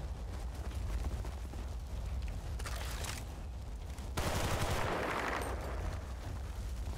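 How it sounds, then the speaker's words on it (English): Machine gun fire in the video game Battlefield Bad Company 2, dense rattling bursts over a rumbling battle background, growing louder and harsher partway through, with no talking. "machine gun"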